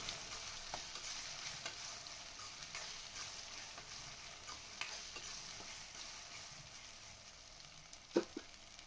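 Soft, steady sizzling and stirring of ginger garlic paste frying in oil in a pan, with occasional scrapes and a small clink near the end.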